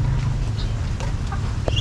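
Chickens cluck continuously close by on a farm with ducks and duckweed-covered water, a steady low clucking chorus with a few brief higher calls and no talking.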